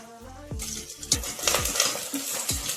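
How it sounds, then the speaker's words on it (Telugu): Onions and green chillies fry in oil in a pan, a soft sizzle under several sharp metallic scrapes and clinks of a spoon stirring, close and fairly quiet. "ఆనియన్స్ గోల్డెన్ బ్రౌన్ వచ్చే వరకు ఆయిల్లో వేగనివ్వాలి"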